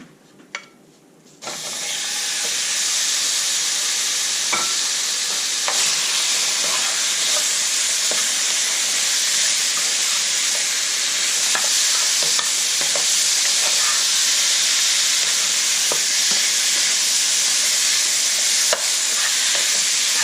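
Pork riblets drop into caramelized sugar in a pan, and a loud steady sizzle takes over after a short quiet start. Close, continuous frying hiss with small crackles and no talk.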